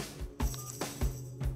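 A phone picked up from a guard rings in the Rocketbirds 2 video game, a repeated electronic trill pulsing in short bursts about every 0.4 seconds, loud and close with no talking.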